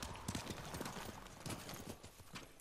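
A horse gallops in the video game Ghost of Tsushima, its hooves beating a quick, steady clip-clop rhythm close by and moderately loud for the whole stretch.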